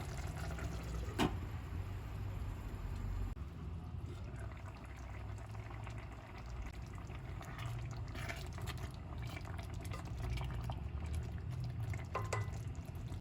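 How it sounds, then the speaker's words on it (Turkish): A steady low bubbling and hiss of spinach root stew simmering over low heat in a covered pot runs throughout, with occasional soft pops and clinks, continuous and close. "Şimdi tenceremizin kapağını kapıyoruz ve yemeğimizi kısık ateşte pişmeye bırakıyoruz."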